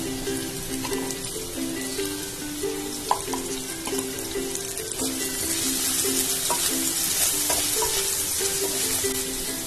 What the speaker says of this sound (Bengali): এবার অ্যাড করে দেব আলুগুলোকে দিয়ে এর মধ্যে একটু হলুদ আর নুন দিয়ে ভাজতে দেব।